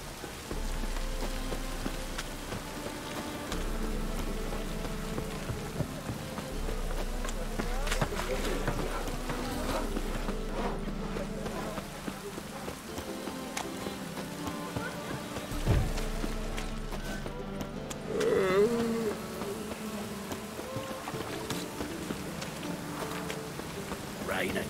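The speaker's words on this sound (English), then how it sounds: "Rain again." Steady rain falling on surfaces, a continuous hiss of drops with occasional low rumbles, while a voice talks intermittently over it.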